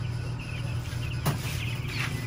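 Backyard broiler chickens and chicks in a coop cluck and peep softly over a low steady hum, with one brief sharper call in the middle.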